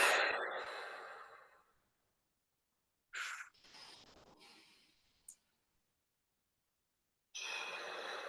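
Slow box breathing, with a long audible exhale, a held silence, then further breaths in and out, close and soft with no talking.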